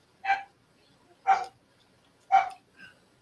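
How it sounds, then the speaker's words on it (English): A dog barks three separate times at roughly one-second intervals, fairly faint and in the background, with a softer fourth yelp at the end and no speech. "Actually, dog's in the background."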